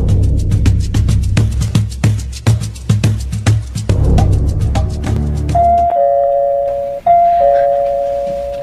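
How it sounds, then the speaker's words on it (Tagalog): A doorbell rings indoors with a rapid run of loud chimes, then settles into two sustained electronic ding-dong tones that ring out and fade. "May na-doorbell, oh."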